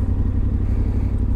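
A Yamaha Tenere 700 World Raid motorcycle rumbles loud and close, a steady low engine drone with some clattering thumps as it rides slowly.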